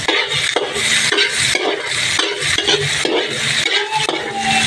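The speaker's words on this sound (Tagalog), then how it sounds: "Yan, nakalagay na yung ating sibuyas bawang." Onion and garlic sautéing in oil in a pan for pork adobo, a steady close sizzle broken by repeated rhythmic scrapes and stirs of a utensil against the pan.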